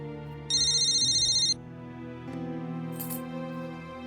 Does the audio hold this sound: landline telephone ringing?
yes